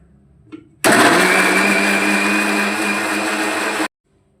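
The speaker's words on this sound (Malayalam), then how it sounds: "മിക്സിയിലിട്ട് കറക്കിയെടുക്കാം" Mixer grinder blending a batch of six or seven tomatoes, a loud steady motor roar that starts abruptly, runs about three seconds and stops dead, with only faint room noise before and after.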